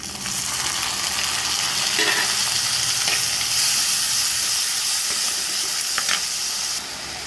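Steady sizzling and frying of onions and tomatoes in a pan, with occasional stirring scrapes, continuous and fairly loud with no voices.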